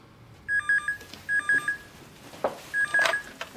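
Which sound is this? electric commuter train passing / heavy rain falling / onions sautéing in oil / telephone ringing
telephone ringing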